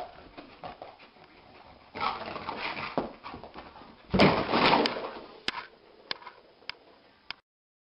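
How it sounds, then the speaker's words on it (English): Sleeping dog having a nightmare, giving faint whimpers and soft muffled yelps, with a brief louder stretch of whining near the middle followed by a few sharp ticks, heard close and alone. "Watch his dog having a nightmare."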